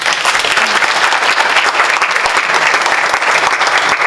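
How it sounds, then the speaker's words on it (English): An audience of foster youth breaks into loud, dense clapping that holds steady throughout, a close and continuous round of applause with a few faint cheers mixed in. "give yourself a round of applause"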